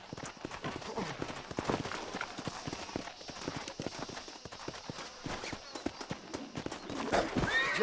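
In Red Dead Redemption, a horse clip-clops in a steady, busy run of hoofbeats, close and clear, ending with a rising neigh near the close.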